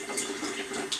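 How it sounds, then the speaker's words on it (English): Hot water runs from a barely opened tap into a sink, a soft, steady trickle heard close up with no talking. "I try to just barely turn on the tap"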